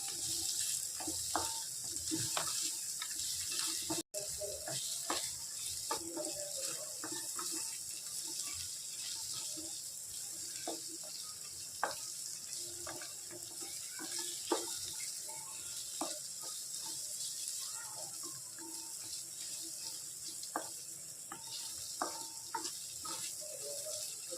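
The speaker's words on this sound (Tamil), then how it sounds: "அதையும் சேர்ந்து நல்லா வதக்கி விட்டுடலாம்." Roasted gram being sautéed in a pan for chutney gives a steady soft sizzling hiss with scattered small crackles and stirring taps throughout.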